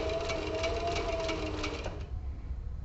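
Sewing machine stitching a leather tablet case, a steady fast mechanical whir with rapid needle clatter for about two seconds, then stopping to leave a duller low hum.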